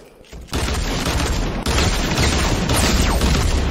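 Loud, dense burst of rapid gunfire in a casual shooting game among friends, steady crackling volleys filling most of the clip after a brief quiet start, with a short break midway.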